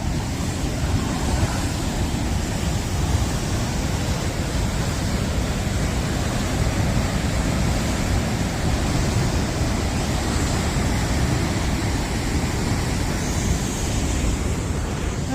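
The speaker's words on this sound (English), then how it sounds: "this is the edge of the waterfall here" Rushing water and spray at the edge of a waterfall near Taupo, a steady, loud broadband roar that holds constant throughout with no voices.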